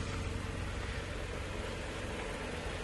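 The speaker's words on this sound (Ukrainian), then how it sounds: "Двигатель працює тихенько, рівненько, без нюансів" A 2020 Jeep Renegade's engine runs quietly and evenly, a steady low hum with a soft hiss and no change in pace, close by with no one speaking.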